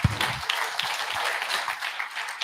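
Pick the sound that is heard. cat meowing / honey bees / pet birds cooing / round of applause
round of applause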